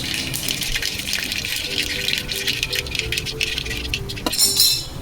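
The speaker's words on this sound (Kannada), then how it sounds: "ಅದು ಪಟ ಆಗಬೇಕು. ಸಾಸಿವೆ ಪಟ ಹಾಕಬೇಕು. ಈಗ ಸೌಂಡ್ ಬರ್ತಾ ಉಂಟು." Mustard seeds splutter and crackle in hot oil in the pan for a Mangalore-style crab masala fry, a dense, continuous popping hiss heard up close with occasional metallic clinks.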